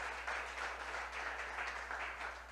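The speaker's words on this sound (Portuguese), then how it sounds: "Dá uma salva de palmas para esse Jesus" A church congregation claps together in steady, distant applause, faint and alone without talk.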